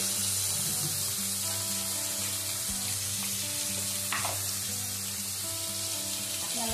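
Mutton pieces sizzling and frying loudly in a hot pan for a mutton curry with banana flower, a continuous crackling hiss with occasional stirring clatter, close and steady.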